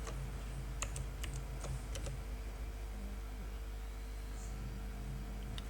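Keyboard shortcuts typed on a computer keyboard during Ubuntu server setup: a handful of close key taps and presses in the first couple of seconds, then quiet over a steady low electrical hum.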